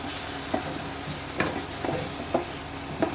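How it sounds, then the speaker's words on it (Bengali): Thalkuri greens and potato stir-fried in a pan with a little water, giving a steady close sizzle broken by several soft scraping strokes of the spoon, with no talking. "এর সামান্য একটু জল দেব, দিয়ে আবার কষাতে থাকবো।"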